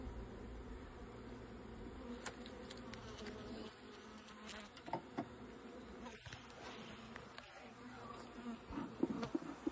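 Honey bees buzz around an open hive, a steady dense drone close by, with scattered clicks and handling knocks from beekeeping work and no speech.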